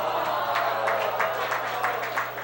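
An audience claps during a Christian ministry seminar talk, a steady, moderately loud patter of hands with light crowd murmur and a low hum underneath.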